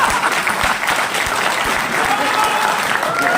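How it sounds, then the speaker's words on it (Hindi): A large audience bursts into loud, sustained applause at a business seminar, dense clapping filling the room evenly from start to finish with no pause. "एक बार जोरदार तालियां, जोरदार तालियां।"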